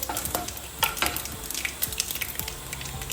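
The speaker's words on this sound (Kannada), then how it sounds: "ಇದು ಈ ಥರ ಚೆನ್ನಾಗಿ ಫ್ರೈ ಆಗಬೇಕು ಚಟಪಟ ಸಿಡಿಬೇಕು" Cumin seeds and spices crackle while frying in a hot pan for a horse gram curry, a dense run of sharp pops and sizzling spits close by, with no voices.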